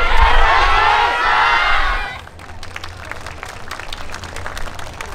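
A festival crowd at an outdoor stage dance performance cheers loudly and then settles into rhythmic clapping along with the show. The sound is dense and close, and voices shout over the start before the steady clapping takes over.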